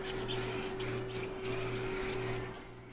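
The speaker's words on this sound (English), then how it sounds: "you're gonna go ahead and get in front of her hair and spray going backwards" Hairspray hisses in steady bursts as it is sprayed onto a bride's hair from front to back while styling Hollywood waves, close and continuous over a low electrical hum.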